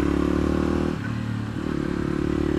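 A Yamaha WR250X motorcycle being ridden, its engine droning steadily near and loud, dipping briefly as the revs drop and then climbing back.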